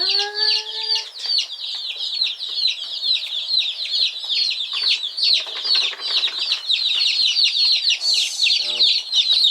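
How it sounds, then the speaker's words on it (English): Chickens cluck and chirp continuously close by, a dense chatter of high peeping calls with occasional lower clucks, all kept up for the full length without pause. "Oh, here comes a chicken."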